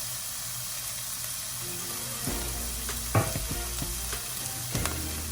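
Mixed vegetables including baby corn sautéing in a pan for an Italian-style veg pasta, a steady close sizzle with a few louder stirring clacks and scrapes, no talking.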